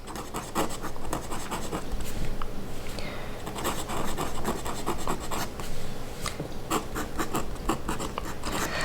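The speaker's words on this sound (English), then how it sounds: "this is the Lamy Safari, and I'm gonna be quiet because it's so scratchy" A Lamy Safari fountain pen with a steel nib scratches steadily across paper while writing, a close, continuous dry rasp with short stroke-by-stroke bursts and no talking.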